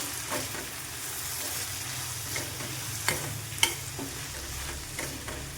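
Pumpkin curry being stirred in a pan with roasted sesame and peanut powder, a steady soft sizzle with a few sharp scraping clicks of the spoon against the pan, close and without talk.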